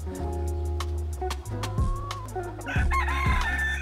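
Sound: chickens clucking

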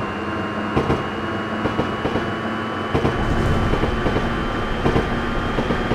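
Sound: electric commuter train departing, video game

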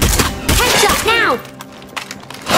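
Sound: gunshots in the video game State of Decay 2

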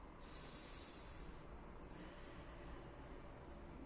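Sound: breathing in and out through the nose

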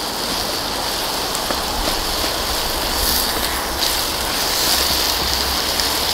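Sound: pytt i panna sizzling in a hunter's pan over fire

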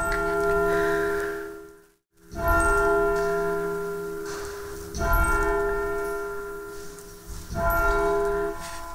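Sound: Belmont Abbey church bell ringing at noon

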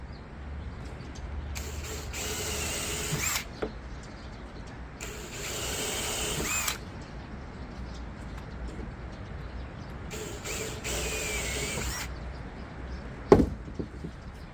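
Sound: drilling a hole in a car panel

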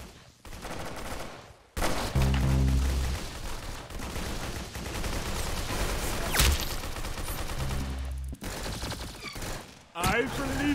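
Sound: gunfire in the video game Clown Infection

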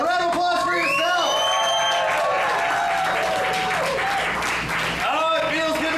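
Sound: audience applause

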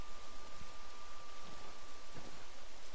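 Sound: rain in the video game Ghost Recon

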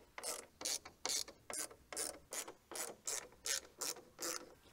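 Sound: undoing T20 screws on BMW M2 DRL module

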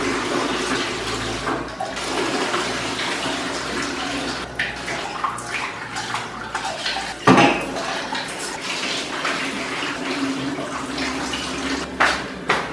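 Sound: draining water from cooked pasta into the sink

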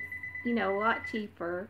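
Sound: mobile phone ringing

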